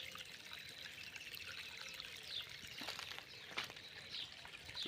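Continuous splashing rush of water pouring into a cattle water tank on a farm, fairly faint and steady, with a bird chirping faintly in the background.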